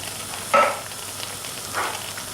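Tomatoes go into a hot pan for a bolognese sauce. There is a sharp sizzling burst, then it settles, and a softer second hiss follows about a second later in a quiet kitchen.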